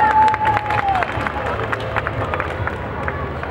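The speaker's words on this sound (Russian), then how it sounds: "Ваши аплодисменты." Outdoor audience at a Novosibirsk city day concert claps and cheers after a young singer's performance, a loud, steady crowd wash with a brief sustained tone fading out early.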